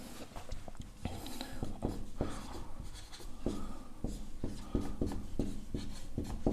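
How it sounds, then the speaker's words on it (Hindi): Steady scratching and tapping of chalk or marker on a classroom board during a maths lesson, continuous and close, with short rhythmic strokes throughout and no talk. "तो देखिए हम लोग कैसे लिखते हैं"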